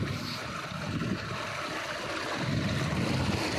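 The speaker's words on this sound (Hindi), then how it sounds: "यहाँ से पानी देखें कहाँ से कहाँ जाता है पानी।" Water running steadily along an irrigation channel in a rural farming village, a continuous close broadband rush and gurgle with no voices.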